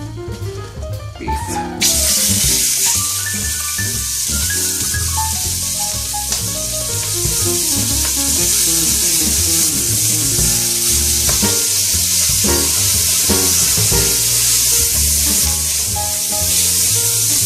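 Beef sears in olive oil in a preheated pot, giving a loud, steady sizzle that starts sharply after a brief clatter and holds strong with occasional stirring scrapes.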